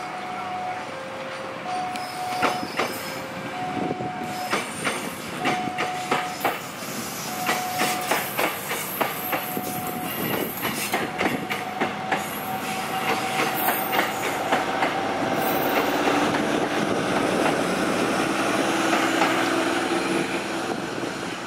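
A Prambanan Ekspres diesel commuter train rumbles past close by with rhythmic clickety-clack of wheels over rail joints, a steady engine drone swelling louder toward the end.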